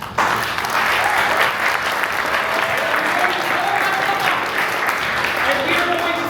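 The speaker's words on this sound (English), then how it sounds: "Everybody give a round of applause for our cast." An audience applauds the cast at the grand finale of a stage show, dense sustained clapping filling the room at steady volume for several seconds, with voices and cheers mixed into the crowd noise.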